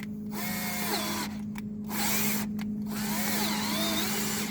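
A power drill drives a screw into the cross member of a surface-mounted diving board, its motor whining steadily throughout with two brief pauses in the trigger, no voices.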